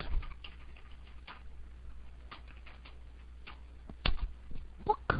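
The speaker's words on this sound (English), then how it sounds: "My typing is extremely poor." Soft, irregular clicks of typing on a computer keyboard, quiet and close, with a few louder taps near the end over a faint low hum.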